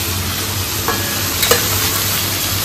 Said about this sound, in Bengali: এখন বিনসটা দিয়ে দিচ্ছে।